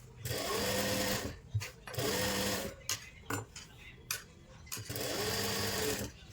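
A sewing machine stitching a lined kurti runs in three close, steady bursts of rapid needle chatter, with clicks and fabric handling between runs.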